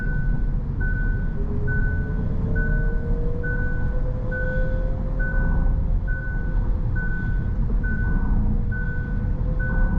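Steady, evenly spaced electronic warning beeps from a Kia's smart cruise control and lane following assist repeat over a continuous engine rumble, close and constant throughout.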